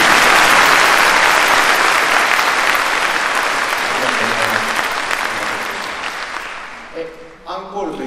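A concert audience at a Japan Ground Self-Defense Force 3rd Division band's regular concert claps loudly for an encore, dense at first, then thinning and fading as a voice begins speaking near the end.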